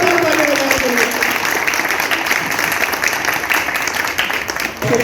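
Loud, dense applause from an audience at a political gathering, steady and continuous throughout with a brief dip near the end.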